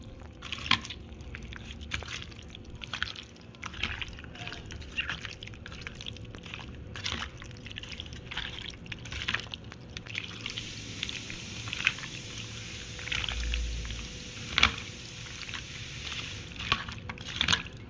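Raw chicken for chicken maharani is worked by hand with salt and marinade, giving soft, wet squelching and squishing sounds that continue steadily with low background hum.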